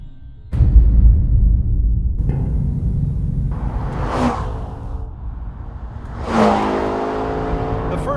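A McLaren 650S Spider sports car's engine roars loudly up close, with a sudden burst of power followed by two rising, revving accelerations and sweeping gear changes.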